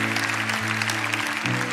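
A congregation at a Sunday night church service in Zurich applauds, a dense wash of clapping with a sustained tonal drone, likely music, beneath it.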